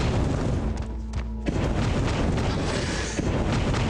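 Flamethrower fire in the survival game Z Shelter, a continuous loud roaring rush of flame with low booming rumble that holds steady for the whole stretch, briefly dipping once.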